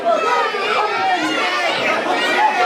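Crowd chattering at a live mechanics competition event, a busy murmur of many overlapping voices with scattered louder calls, steady and close.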